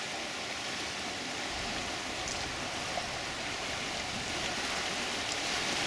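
Floodwater rushes bank to bank through the swollen Poway Creek, a dense, steady roar of flowing water that stays constant throughout with no voices.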